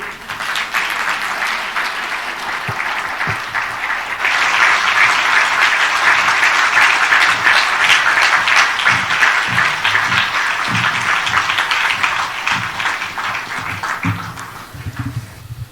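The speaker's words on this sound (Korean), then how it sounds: "계속 박수 치세요." An audience applauds at a gathering of pastors, heavy continuous clapping that swells louder after a few seconds and holds steady before easing slightly at the end.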